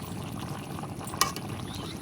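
A raw papaya and duck egg curry simmers down to a thicker gravy, giving a faint, steady bubbling sizzle with one small pop midway.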